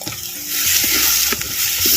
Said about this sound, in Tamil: எண்ணெயில் நல்லா வதக்குறேன் அப்படியே